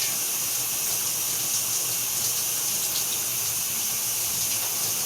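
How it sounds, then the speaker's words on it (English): Water runs steadily from a sink tap as someone washes their face with a pearl bath wash, a continuous close hiss and splash with no talking. "I'm washing my face in the Nuva Pearl Sensitive Radiant"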